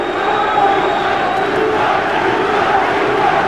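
A boxing crowd roars for the champion at a Chris Eubank vs Tony Thornton fight, a loud, sustained wall of cheering that holds steady from start to finish.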